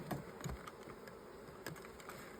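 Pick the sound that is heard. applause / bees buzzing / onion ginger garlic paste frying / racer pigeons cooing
bees buzzing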